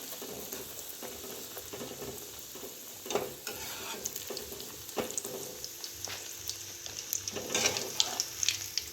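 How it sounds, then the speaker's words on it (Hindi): Keema paratha shallow frying in a little oil on a pan, a soft continuous sizzle with occasional crackles and spatula scrapes growing busier toward the end, close and moderately quiet, no voices. "मैं फ्राई कर रही हूँ, चाहे तो शैलो फ्राई भी कर सकती हैं थोड़ा तेल देकर"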